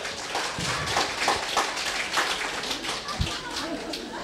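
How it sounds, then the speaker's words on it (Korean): A crowd at a religious gathering claps steadily for several seconds, the applause fairly loud and even throughout. "어, 박수."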